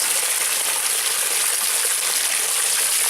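Water gushing steadily from three pipe outlets into a swimming pool heated by a wood burner, a continuous bright splashing roar, close and even, with no talk.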